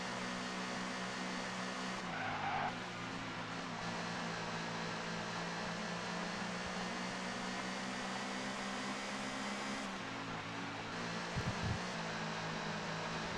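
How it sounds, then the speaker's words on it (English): A touring car in the ToCA 2 racing game at Donington Park with its rear end sliding out: a steady loud engine drone carries faint tire skid and squeal, and the engine note shifts partway through. "That's the rear end trying to slide out again."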